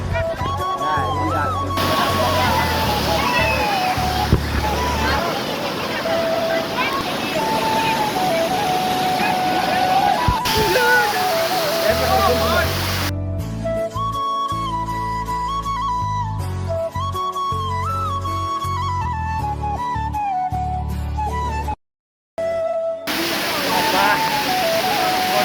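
Water rushes at Mayabi waterfall as rain begins to fall, a steady broad roaring hiss that drops out for a stretch in the middle and then returns, with voices heard over it.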